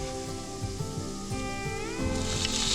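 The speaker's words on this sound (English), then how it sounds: "Listen to that sizzle." Steady crackling sizzle of ham frying in a hot pan, continuous and close, swelling a little louder near the end.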